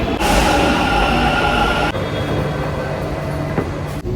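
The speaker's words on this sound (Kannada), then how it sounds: "ಟ್ರೈನ್ ಬಂತು" A train arrives at a station, rumbling loudly close by, with a steady roar of wheels and carriages and no talking.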